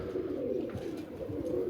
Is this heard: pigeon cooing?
yes